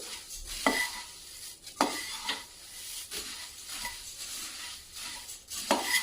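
Puffed rice mixture being stirred in a frying pan, with a few louder scraping strokes of a spoon against the pan over a steady rustle, close and continuous with no talk.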